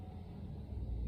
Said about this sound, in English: So I just heard the school bus go by.